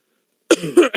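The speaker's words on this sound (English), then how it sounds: "still coughing up a lung here" A short burst of coughing after a moment of silence, two or three harsh, close coughs.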